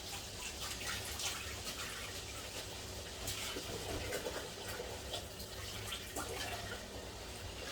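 Rice for Nigerian jollof is rinsed in water to wash off starch, a faint, continuous sloshing and trickling with small splashes, heard quietly and alone.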